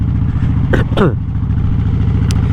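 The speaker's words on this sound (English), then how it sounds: "Lugging in second gear." A motorcycle engine lugging at low revs in second gear, a steady loud rumbling drone running throughout, with a brief voice-like burst partway through.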